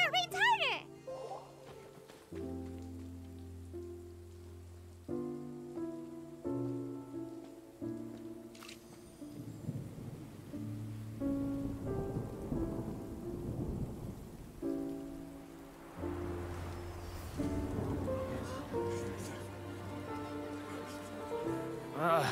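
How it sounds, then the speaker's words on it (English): Rain falls with rolling thunder in a Genshin Impact story quest, a low steady wash beneath layered background music while characters speak over it. "It's raining again."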